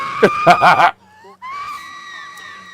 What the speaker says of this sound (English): You get the special scream right there.